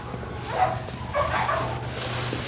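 A dog at an animal pound gives a few short barks and whimpery yips over a low, constant hum, with no one talking.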